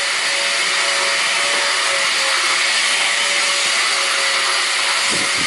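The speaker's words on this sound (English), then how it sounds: "flap wheels already on the grinder" A grinder fitted with a flap wheel grinds orange coating off robot parts in a steady, loud, continuous high whine, close by and without talk.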